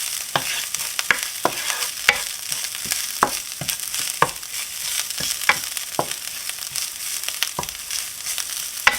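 Parsley flakes sauté with garlic and onion in a hot pan under a constant sizzle, with sharp repeated clicks of a utensil stirring and scraping close by.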